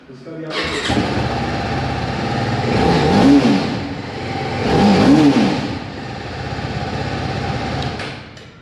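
A TVS Apache RR 310 motorcycle, a 300 cc sport bike, starts and settles into a loud close exhaust note, with two swelling revs before dropping back to idle.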